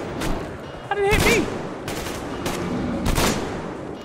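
Shotgun blasts in the post-apocalyptic shooter Metro Exodus, several sharp booming shots spaced about a second apart, with a player's voice crying out between them.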